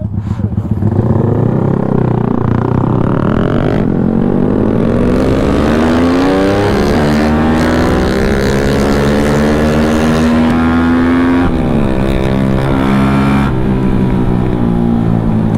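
A loud Yamaha Y15ZR motorcycle engine revs up and down repeatedly, its pitch climbing and dropping close by with no talking.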